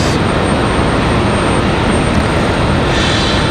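A Sun Country Airbus A319 jet airliner roars past at an airport in stormy weather, a loud, dense, continuous engine rush filling the whole short stretch.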